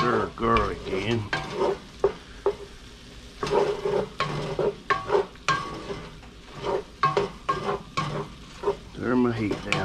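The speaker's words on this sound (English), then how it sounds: "And we'll stir garlic in." Minced garlic sizzling in a pot of smoked sausage chili while a spoon stirs it, giving a steady close frying hiss with repeated scraping and clinking of the utensil against the pot.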